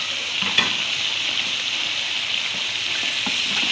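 Chopped tomatoes sizzle steadily in a hot pan for chicken vegetable Chinese rice, a continuous close frying hiss with a few faint stirring scrapes and no talk.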